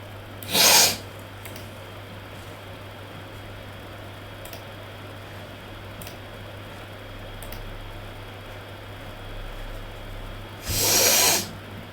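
Two sharp sneezes, one near the start and another near the end, burst loudly out of a quiet room with a steady low hum and no talking in between.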